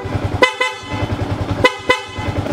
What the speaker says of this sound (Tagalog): So ito na yung loud horn natin na may passing.